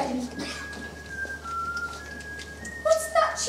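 A person whistles the Welsh tune All Through the Night, a clear sustained melody of gliding notes at moderate distance, with faint voices and room noise around it.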